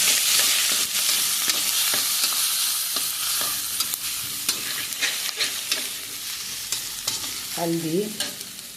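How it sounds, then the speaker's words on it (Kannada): Garam masala and cumin frying in a pan for a home-cooked lunch, a loud continuous sizzle with frequent sharp stirring scrapes and clinks of a spoon against the pan. "ಸ್ವಲ್ಪ ಗರಂ ಮಸಾಲೆ ಇಷ್ಟು ಹಾಕಿ ಫ್ರೈ ಮಾಡ್ತೀನಿ"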